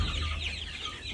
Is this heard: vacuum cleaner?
no